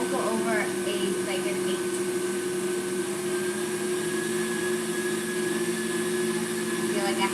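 An electric mixer whisks egg whites and sugar into meringue for macarons, a steady loud motor whir running unbroken throughout.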